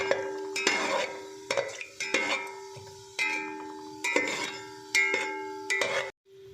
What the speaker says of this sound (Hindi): इन्हें 1 मिनट के लिए फ्राई कर लेंगे।